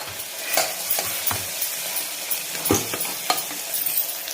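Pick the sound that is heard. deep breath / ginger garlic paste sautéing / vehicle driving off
ginger garlic paste sautéing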